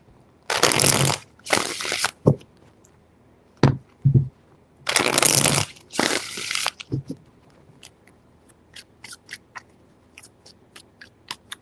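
Tarot cards being shuffled in three bursts, each a loud riffling rush, followed by scattered soft taps and clicks of the cards settling, close and with no voice over them.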